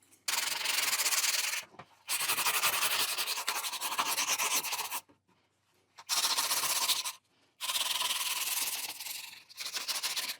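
A plastic axe prop is sanded by hand in long steady rasping strokes, close and loud, broken by a few short pauses.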